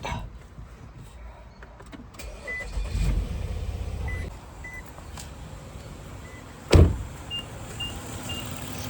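A car's engine runs steadily at idle while being checked for a misfire, its note shifting as a part is pulled, with a sharp knock or click near the end and faint beeps in the background.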